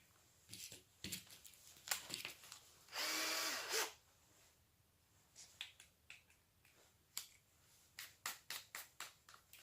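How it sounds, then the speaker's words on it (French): A wire brush spun on a cordless drill makes one loud, sustained whirring burst of about a second, set among scattered clicks and taps, with no talk. "c'est une brosse métallique"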